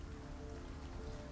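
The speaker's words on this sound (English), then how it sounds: "it just always rains here" Rain falls steadily in the video game World of Goo 2, a faint, even patter with no other sounds standing out.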